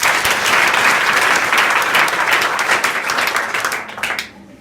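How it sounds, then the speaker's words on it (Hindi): An audience at a college event in Azamgarh, India, claps loudly in enthusiastic applause, dense and sustained before tapering off quickly at the end. "जोरदार ताली बजाओ"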